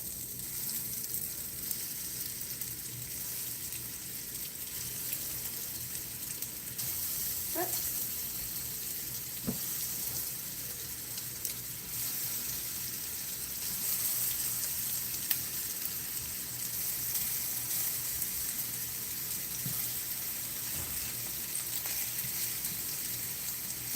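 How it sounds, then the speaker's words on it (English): Food sizzles and crackles quietly in a pan, a steady faint hiss with occasional soft pops. "You can hear that little sizzle sizzle."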